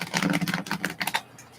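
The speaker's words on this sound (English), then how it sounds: "I'm going to give this a little tickly shuffle real quick, though." A tarot card deck gets a quick riffling shuffle, a close, dense burst of rapid papery clicks and flutters that thins out after about a second.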